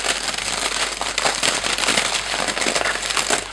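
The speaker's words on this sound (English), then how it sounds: "So after you bake the eggshells, all I do is I put them in this gallon freezer bag and crush." Baked eggshells crushed inside a gallon plastic freezer bag make a dense, close crackling and crunching that bursts in rapid uneven waves throughout, with no talk.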